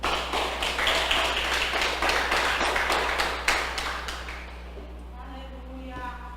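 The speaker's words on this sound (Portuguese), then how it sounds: "Você pode aplaudir ao Senhor." Church congregation bursting into applause, a dense wash of claps for about four seconds that fades out as a voice rises over low hum.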